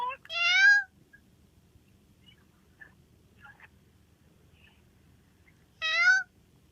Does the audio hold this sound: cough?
no